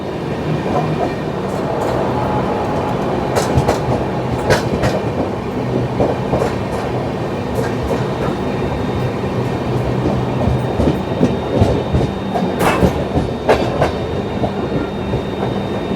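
A moving passenger train on the Delhi–Ranchi run clatters loudly and continuously over the rails, heard from inside. Rhythmic clickety-clack joins rumble, with sharper metallic knocks here and there. No one speaks.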